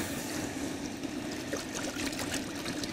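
Water is poured in a kitchen while fish soup is being made, a steady trickling, splashing stream close by with a low hum underneath.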